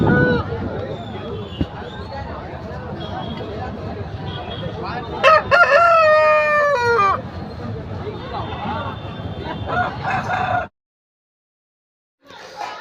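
A year-and-a-half-old breeding rooster crows once, loud and close, at the busy Sunday market in Rayachoti, Annamayya district, over a steady babble of crowd voices and market noise.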